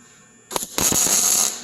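A welder tacks sheet metal into a joined Chevy and Ford pickup bed, a sharp crackle starting suddenly, stopping, then buzzing and sizzling steadily for close to a second, loud and close with no voices.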